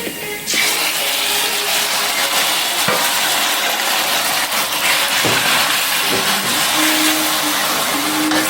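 Fresh garlic and onions fry in a pan for chicken fried rice, giving a continuous loud sizzle with occasional stirring scrapes and clinks.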